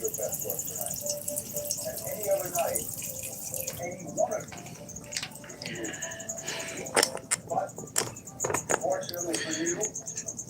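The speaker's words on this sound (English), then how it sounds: "We're going to have to fill up this water." Water runs from a tap to refill a tarantula's water dish, a continuous splashing trickle with intermittent drips and clinks, while someone talks over it at times.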